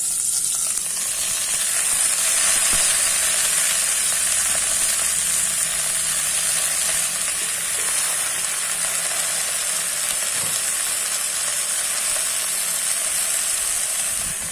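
Sliced onion and green chilies with gongura leaves frying in hot oil in a pan, giving a steady, loud, continuous sizzle with a crackling hiss that holds throughout and no talk over it.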